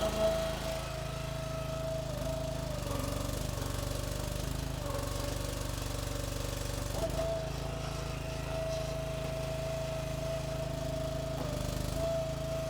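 A log splitter's small engine drones steadily and moderately loud while its log lifter is raised, with slight shifts in pitch and load but no break in the running.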